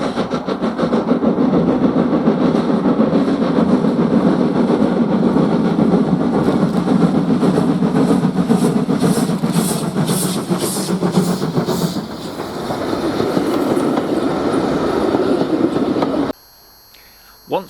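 Steam locomotive 55189 climbing towards Manuel Junction after crossing Avon Viaduct, with a steady loud rumble of engine and rolling wagons, rail clatter and a sustained hiss throughout, cutting off abruptly near the end.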